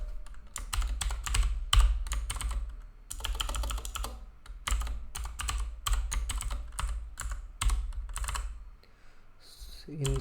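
Steady, fast typing on a computer keyboard while a MySQL query is written, with crisp clicking keystrokes in bursts and short pauses, close up and fairly loud, with no talking.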